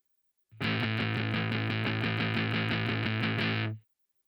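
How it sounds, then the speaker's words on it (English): Electric guitar chugs palm-muted power chord downstrokes in a steady even rhythm, distorted and tight, about three seconds then stops. "With palm muting, downstroke strumming a power chord sounds like this."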